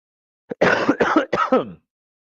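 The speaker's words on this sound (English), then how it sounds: "So I apologize for the coughing." A person recovering from pneumonia coughs in a close, loud burst of about four rough hacks in quick succession, then silence.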